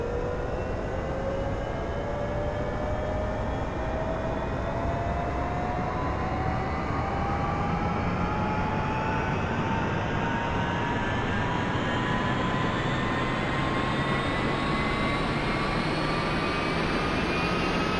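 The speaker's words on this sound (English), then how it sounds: "The helicopter will toss you around quite a bit as the rotor spins up." A UH-1 Huey helicopter turbine engine in the DCS flight simulator whines steadily upward in pitch as it spools up, with a loud continuous rumble underneath, close and unbroken throughout.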